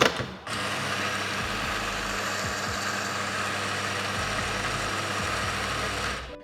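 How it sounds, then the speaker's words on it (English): Anfim Luna 65mm espresso grinder started by locking a portafilter into its fork, a loud steady motor whir grinding coffee for about six seconds with an abrupt start and stop. "To get your grinder started, simply lock your portafilter into the fork, and that'll press a little button there that'll start the shot"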